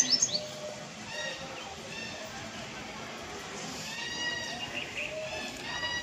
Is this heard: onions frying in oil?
no